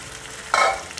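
Mutton mince with fat and yellow peas frying in oil in a pan, a brief stir that sets off a sharp burst of sizzling over a low steady crackle.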